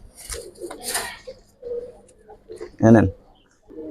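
Pigeons in a bird market, among them a cat-eyed or ash-eyed bird, give a short burst of soft cooing near the microphone, and people talk on and off around it.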